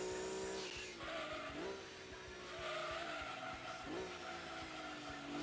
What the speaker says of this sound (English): I heard the little rev down where the car corrects itself.